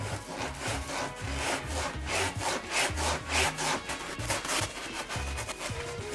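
A household sponge wipes foamy Dawn Powerwash dish spray off a dish with steady back-and-forth rubbing strokes, loud and close with no talking.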